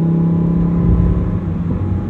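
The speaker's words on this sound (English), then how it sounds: "if you wait that extra fraction of a second to downshift and then accelerate, what you find is absurd levels of power" A supercharged Lamborghini Huracan STO engine drones low and steady, with a slight rise in pitch and loudness as it accelerates, heard continuously and close.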